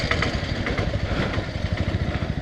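Motorcycle engine idling close by in a steady, continuous rumble while the bike is being parked near Sathanur Dam in Tiruvannamalai district, with no talk over it.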